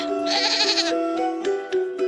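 A sheep bleats once in a long, quavering cry, followed by a few shorter, fainter bleats with no talking.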